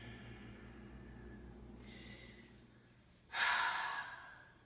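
Slow deep breathing, a soft drawn-out breath sound fading over several seconds, then a louder, close airy exhale or inhale rushing near the end.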